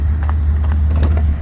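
A long-bed Chevrolet C1500 pickup running on a snowy day, heard as a steady low engine drone with faint mechanical rattles, close and constant throughout.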